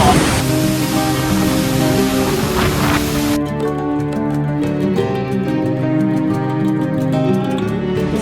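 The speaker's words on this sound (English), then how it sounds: "What a waterfall." Escondido Falls in Malibu, California pours in a loud, steady rushing hiss that is strongest for the first few seconds and then settles into a softer continuous roar with a tonal layer beneath.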